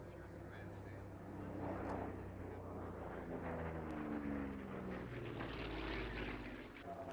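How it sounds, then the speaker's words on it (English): A propeller race plane sweeps around the course at a 1985 air race, its steady engine drone swelling and fading as it passes by in the middle distance, heard alone without talk. "a beautiful airplane out there on the course"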